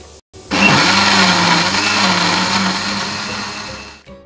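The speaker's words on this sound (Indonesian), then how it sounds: "Sekarang kita blender nanasnya sampai halus" A kitchen blender whirs steadily, blending pineapple with sugar and water into a smooth purée, loud and continuous for about three and a half seconds before winding down.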